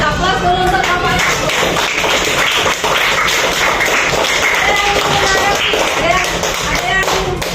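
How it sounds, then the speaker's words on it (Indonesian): A school class gives applause for a group of students in a Grade 5 Indonesian lesson, a loud, dense patter of clapping and table taps that continues without a break, with voices mixed in. "Kasih aplaus dulu untuk kelompok 1."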